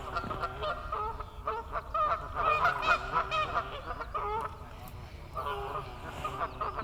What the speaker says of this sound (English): If it's not frogs, it's geese.